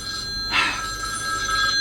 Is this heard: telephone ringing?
yes